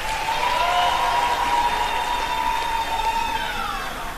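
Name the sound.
graduates' applause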